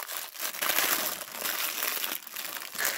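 A plastic bag of small building pins for clamp bricks crinkles and rustles close up, with continuous handling and a few quieter pauses, and no talking.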